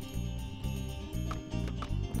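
Hooves of a horse in a horse-riding video game, Secret of the Magic Crystal, clip-clop in a steady repeating rhythm, fairly faint, over a continuous game soundtrack.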